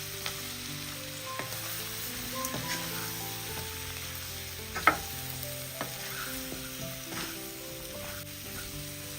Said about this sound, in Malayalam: പാവയ്ക്ക് ഇട്ട് കൊടുത്തതിന് ശേഷം ഒന്ന് ഇളക്കി കൊടുക്കാം